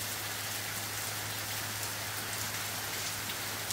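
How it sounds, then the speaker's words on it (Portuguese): Rain falls steadily and densely, a constant even hiss of drops on surfaces filling the whole stretch, with no voices. "a chuva tá caindo. Olha que coisa gostosa. Tá aumentando, hein?"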